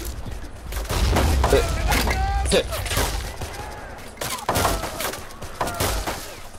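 Gunfire in Men of War Assault Squad 2 during a modern-mod battle in Finland, dense volleys of sharp shots and crackling bursts overlapping in quick succession, loud and continuous.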